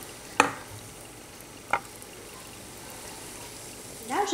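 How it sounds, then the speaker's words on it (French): A spoon stirs a pot of harira soup, with a couple of sharp clinks against the pot over a low simmering background and a scraping swirl at the end. "Là, je vais rajouter la tadouira en mélangeant en même temps ma marmite de harira."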